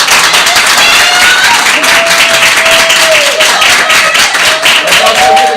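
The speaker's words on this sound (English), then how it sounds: "Let's give her a round of applause." Loud, dense audience applause at a meeting, continuous clapping from a room full of people held steady for several seconds without pause.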